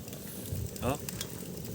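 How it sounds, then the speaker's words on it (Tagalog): Bubbling and sizzling of seafood, including small octopus, boiling over hot stones, a steady crackling hiss with a brief louder burst of bubbling in the middle. "Pumuputok-putok na yung bato. Wow, kumukulo na"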